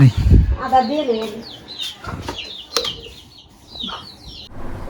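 Chickens near a house clucking and squawking with brief wing flapping, close at first then quieter scattered calls, with a person's voice briefly in the mix.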